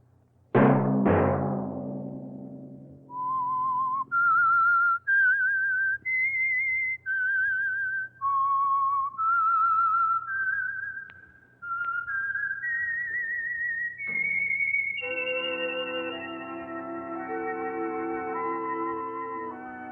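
The Whistler old-time radio show's signature whistle: a clear, close whistled melody of sustained notes stepping up and down, with a sharp opening chirp and a long held phrase at the end.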